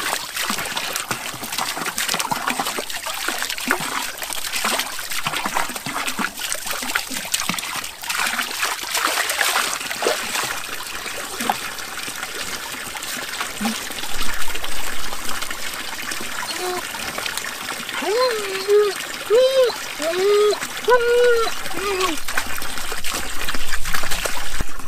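Water trickles steadily at a quiet mountain bivouac spot in the Hautes-Alpes, a close, continuous babbling flow with small splashes throughout, and a few brief higher chirping tones toward the end.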